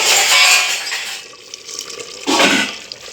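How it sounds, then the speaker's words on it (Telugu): Water for chicken biryani boils in a cooking pot, giving a steady bubbling hiss that fades slightly, then swells again near the end with a brief bubbling burst, with no voices. "ఇలా ఉడుకుతూ ఉందో చూడండి"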